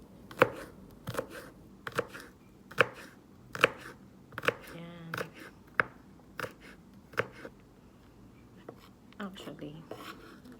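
Peeled onion and garlic being sliced on a cutting board, a close series of crisp knife chops in an irregular rhythm, with a soft voice murmuring in between.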